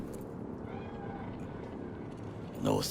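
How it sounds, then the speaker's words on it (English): A cat meows in the Cyberpunk 2077 video game, a short near call arriving at the very end after quiet game ambience. "Do you see it? That cat? Fine-looking feline."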